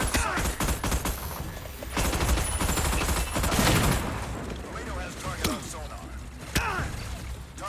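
Rapid bursts of video game gunfire and explosions from the Battleship movie game crackle continuously, with sharp shots and a booming hit, while a player talks over the action.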